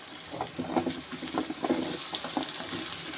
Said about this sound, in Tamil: இப்போ வந்து நம்ம இந்த முருங்கைக்காயை போட்டுக்கிறோம்